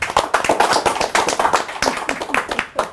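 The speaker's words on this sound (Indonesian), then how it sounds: "Tepuk tangan buat semuanya" Steady applause from a crowd, dense rapid clapping filling the whole stretch at moderate volume, with no voices standing out.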